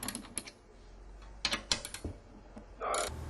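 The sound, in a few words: ratcheting lug bolts on VSAT dish mounting bracket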